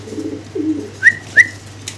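Pigeons kept for sale at a market dealer give low, soft coos near the start, followed by two brief higher whistling notes, close and fairly quiet over a steady low background hum.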